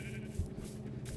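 A sheep in a video game bleats in a short, wavering call, fairly quiet and alone, with a steady low background hum.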